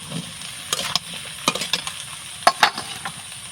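Okra and pointed gourd frying in a pan with browned onion and chilli, a light sizzle broken by irregular spatula scrapes and clinks close by.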